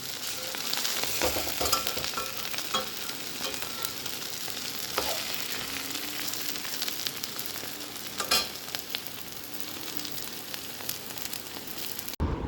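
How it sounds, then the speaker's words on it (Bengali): Chopped cabbage sizzles and crackles steadily as it is stirred and fried in a pan, with occasional scraping clatter of the spatula and no talking. "কুচি বাঁধাকপি এই এসছে, আর একটু নাড়াবো, তারপর নামিয়ে দেবো।"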